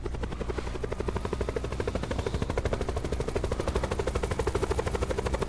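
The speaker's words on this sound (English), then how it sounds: "What chopper? I don't see it. Oh, there it is." A helicopter in the video game Call of Duty Blackout thumps with a fast, steady rotor pulse that holds loud and close throughout.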